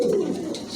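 Male Andalusian pigeon giving a short, close, low coo, a single soft throaty phrase with faint background noise.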